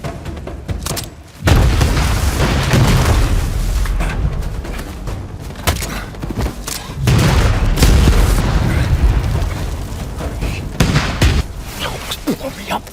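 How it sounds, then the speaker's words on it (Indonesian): Bombs and explosions in a film scene, loud repeated booms and blasts that swell and fade in waves, with a narrator's voice talking over the action. "Bom terus berlanjut"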